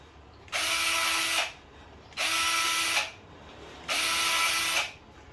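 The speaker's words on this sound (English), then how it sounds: "I'm going to drill these 4 holes out." A small power drill with a 1/8 inch bit whirs three times in even bursts of about a second each, drilling holes for a chassis brace, with short quiet pauses between, close and fairly loud.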